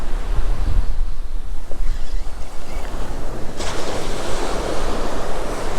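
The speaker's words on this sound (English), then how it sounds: "Understandably, no one wants to be out in this bloody wind." Strong wind buffets the microphone at a seaside fishing spot as ocean waves crash and wash in, a loud, continuous roar with no speech.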